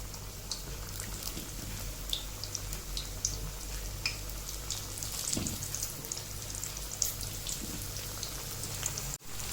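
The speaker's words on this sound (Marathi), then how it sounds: "आता हे तेलावर जे बुडबुडे आले आहे ना ते गेल्यानंतरच ते पलटी करायची" Corn fritters deep-frying in hot oil, a continuous crackling, bubbling sizzle with a low steady hum underneath, close and even throughout.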